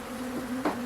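Honey bees buzz steadily in a garage during a bee removal in stormy weather, giving a close, continuous hum that wavers slightly in pitch, with a brief louder flare near the end.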